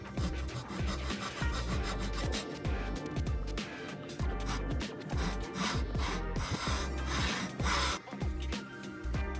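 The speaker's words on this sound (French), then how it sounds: "Je me fais un marquage avec la scie à métaux" A hacksaw marks a fine groove in a plate of recycled skateboard wood, rasping back and forth in quick, even strokes that repeat close by and are a little muffled.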